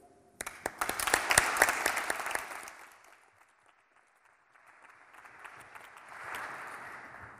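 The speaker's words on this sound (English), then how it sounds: "perhaps we could have a round of applause to say thank you" An audience applauds with a burst of dense clapping after a thank-you at a lecture event, loud at first and then fading, with a softer swell of clapping returning near the end.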